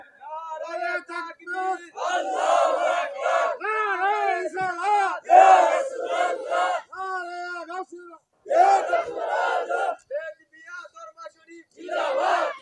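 A crowd at a religious sermon chants slogans in unison, loud call-and-response bursts of massed voices separated by short pauses, with a lead voice starting each round.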